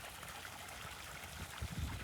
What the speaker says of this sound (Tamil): இந்த அளவுக்கு தண்ணி விழுந்துட்டே இருக்குங்க